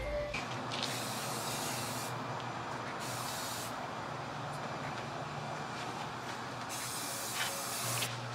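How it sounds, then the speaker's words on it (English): Spray paint hisses from an aerosol can onto the back of a piece of furniture outdoors in daylight, a steady close broadband spray with a few louder bursts and no talking. "I went ahead and sprayed a little bit on the back."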